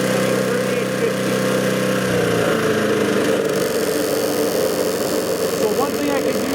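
A YT624EJ riding mower engine drones steadily and loud at high RPM, its pitch climbing as the throttle is raised, while a voice speaks over the running engine.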